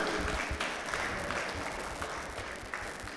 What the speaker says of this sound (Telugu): గట్టిగా చప్పట్లతో సత్కరిద్దాం మనందరం కూడా.